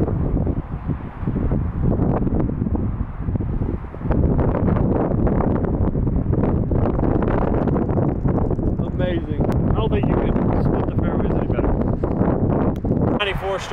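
Wind blows across an open golf course fairway near a bunker, buffeting the microphone with a steady, rough rushing noise that stays loud throughout, with faint voices and a few light knocks mixed in.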